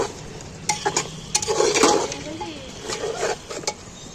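Mutton curry with onions being stirred in a pan, a few scraping and clinking strokes of a spoon over a soft sizzle, close and intermittent.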